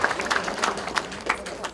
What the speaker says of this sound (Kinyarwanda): twongere tubakomera amashyi menshi cyane